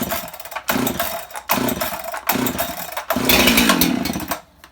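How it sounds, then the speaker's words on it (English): A 65cc Jonsered chainsaw with a history of lean running is revved with no bar fitted. It gives loud, close bursts of high-pitched engine roar broken by short drops in speed, and the last burst is longer before it cuts off. "I'm gonna run it without the bar first, and we're gonna check to see if we got bar oil coming out right here."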